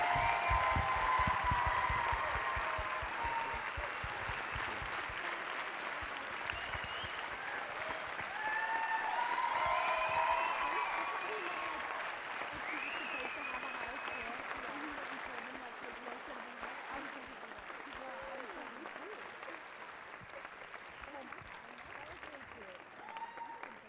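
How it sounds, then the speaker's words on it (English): Audience applause at a world jump rope championship finals, a sustained wash of clapping through a large arena, strongest at first then gradually thinning and fading, with scattered cheers rising above it. "please give a round of applause for Mr."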